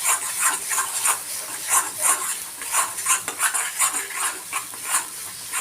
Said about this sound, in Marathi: छान तेल सुटेपर्यंत आपल्याला हे भाजून घ्यायचंय.